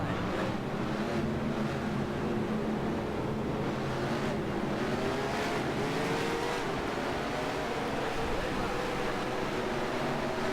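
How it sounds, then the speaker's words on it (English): Race car engines in the NASCAR Racing 2003 video game, a loud continuous droning roar with rising pitch as the cars accelerate, under a voice speaking. "Drivers, start your engines!"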